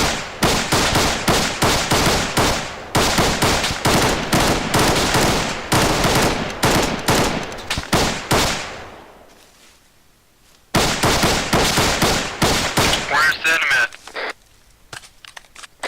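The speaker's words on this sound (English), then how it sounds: "Taking fire. Taking fire from the southwest. About 200 meters. Return fire." Loud, rapid bursts of automatic gunfire crackle in a tight rhythm during a Fox Company exercise, break off into near silence for a couple of seconds, then resume before tapering into scattered shots.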